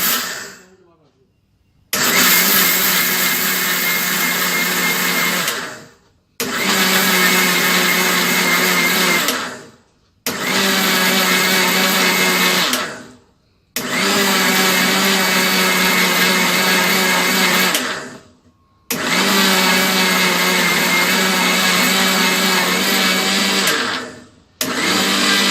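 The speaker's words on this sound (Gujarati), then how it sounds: "નેક્સ્ટ આપણે આને બધું ગ્રાઇન્ડ કરી લઈશું એક સાથે." A blender grinds chocolate brownie premix ingredients in five loud bursts of steady whirring, each a few seconds long, separated by short pauses as it is started and stopped.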